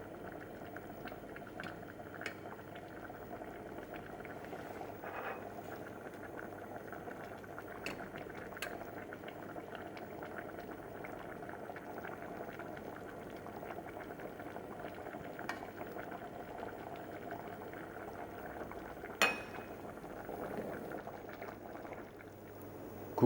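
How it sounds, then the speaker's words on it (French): A pot of stew liquid simmers at a steady boil, a continuous soft bubbling patter with occasional louder pops, heard up close and alone without voices. "portez à ébullition, l'écumez délicatement"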